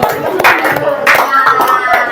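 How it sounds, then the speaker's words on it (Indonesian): Classroom applause for a student group: a burst of hand clapping mixed with lively voices from students, fairly loud and close. "tepuk tangan buat kelompok 3"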